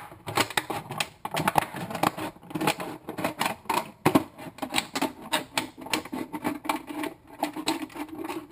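Repeated crisp snipping and crunching of scissors cutting through a plastic bottle, irregular clicks in quick succession, close up.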